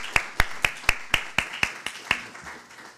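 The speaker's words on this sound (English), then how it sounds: "Give a round of applause for Dr. Roger Hakim Staggers." Applause for a panelist at a community conversation event comes as about nine crisp, evenly spaced claps that fade after a few seconds, sounding like only a few hands.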